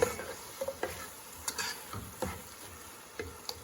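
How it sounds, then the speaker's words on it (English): Onions and celery cook in a pot with a faint, low sizzle, broken by a handful of light clicks and scrapes from stirring, quiet and close. "our onions and celery are cooking"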